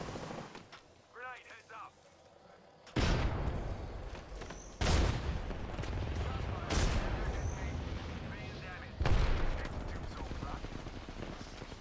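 Loud video game gunfire erupts in sharp bursts and sustained volleys after a quieter opening with faint voice-like sounds, and blasts keep punching through the clamor.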